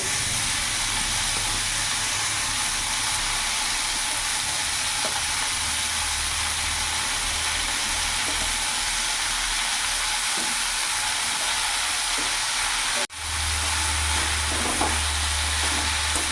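Garlic and chopped bathua greens fry in a hot pan with a loud, steady, close sizzle and hiss, briefly cut off near the end before the sizzling resumes.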